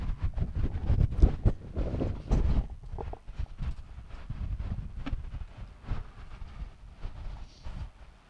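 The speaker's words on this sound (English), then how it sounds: "The wind's causing issues." Wind gusts buffet the microphone outdoors on a golf course during a junior golf croquet match, in low rumbling bursts that rise and fall irregularly, loud and close, with no clear talk.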